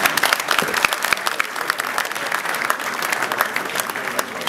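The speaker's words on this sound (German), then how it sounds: "Einen herzlichen Applaus." An audience claps warmly for a stage actor at a live show, the applause steady and fairly loud with crisp individual claps standing out, continuing throughout without talk.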